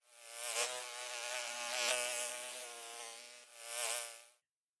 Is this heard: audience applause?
no